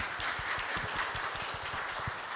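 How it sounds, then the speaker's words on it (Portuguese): Applause from a seminar audience in a lecture room, a steady wash of many hands clapping at moderate volume, with individual claps audible throughout and no voices. "Então vamos aplaudir."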